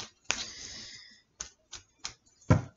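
A tarot deck is shuffled and cut up close: a quick riffling burst of cards, then four separate short, crisp taps and slaps, quiet and with no talk.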